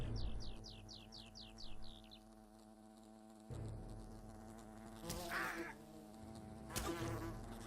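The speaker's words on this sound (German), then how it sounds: "Töte die Wespen auf dem Picknickplatz." Wasps buzzing around a picnic area in the video game Fable Anniversary, a steady insect drone with rising chirpy calls early on and a few louder game sound bursts later, no talking.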